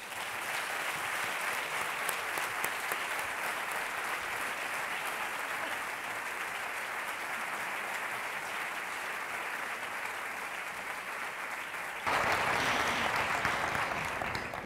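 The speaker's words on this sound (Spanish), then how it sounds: "os pido un aplauso para ellos" An audience at a Spanish Marian presentation applauds in a long, sustained, even burst of clapping that swells noticeably louder near the end, heard from a slight distance with no speech over it.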